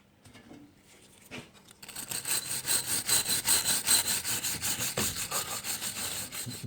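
A wire brush scrubs a 50cc two-stroke cylinder from a Polaris in quick, rhythmic back-and-forth strokes, harsh and close, starting after a couple of quieter scrapes and running steadily to the end.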